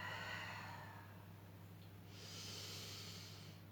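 A soft breathy exhale during a Pilates exercise, faint hissing breath that fades and returns under a low steady background hum.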